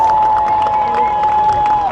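Crowd cheering and clapping at a student-days mud wrestling event in Tartu, a brief, loud mix of scattered claps and shouts under a steady tonal hum.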